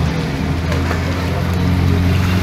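Steady low engine drone of a six-person boat pulling away on Maithon Dam lake, heard close and continuous with wind and open-air noise layered over it.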